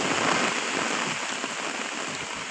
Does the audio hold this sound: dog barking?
no